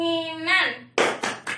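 Classroom clapping chant, where a sung voice holds a tone before three sharp, evenly spaced hand claps ring out close and loud.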